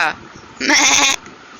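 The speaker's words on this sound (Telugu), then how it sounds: "మేక" A goat in a Minecraft game trailer gives one loud, wavering bleat in the middle, heard up close, with a brief bit of speech just before it.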